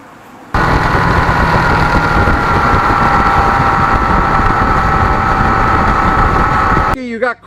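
A motorcycle engine idles loudly and evenly for several seconds, a steady close rumble that cuts off abruptly near the end as a voice briefly begins.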